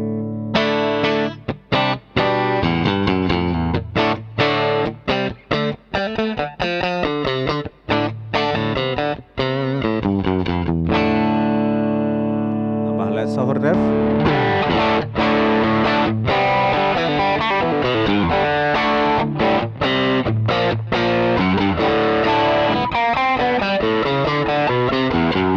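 Ibanez GRG170DX electric guitar on the middle pickup, played through heavy distortion as dense riffs with chugging palm-muted bursts and short breaks, loud and continuous with no voices.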